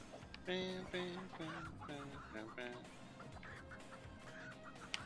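A chicken in the video game Moving Out clucks in a few short, pitched bursts near the start, followed by quieter background game sounds and faint voices.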